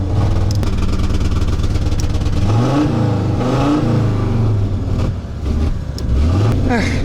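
A car engine warming up runs loudly and steadily nearby, its pitch rising and falling as it revs several times.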